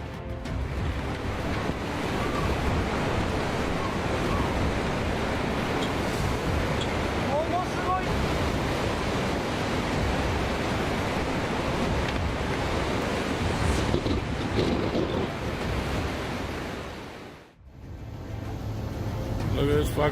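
Storm-driven ocean waves surge into a coastal town in Madagascar, flooding the streets with a loud, continuous churning roar mixed with wind buffeting. The sound drops out briefly near the end, and voices are faint.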